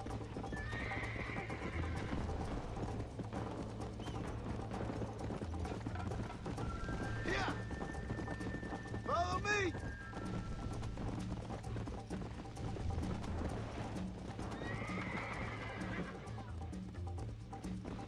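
A horse in Red Dead Redemption whinnies loudly in the middle while hooves clip-clop steadily throughout, with a second, fainter neigh near the end over ambient outdoor sound.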